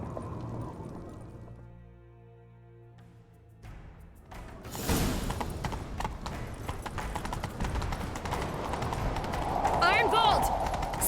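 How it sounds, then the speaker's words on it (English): Horse hooves gallop in the video game The Witcher 3, a fast clip-clop building under music and game sound, with voices talking over the chase. "Grab a horse, we'll chase him down."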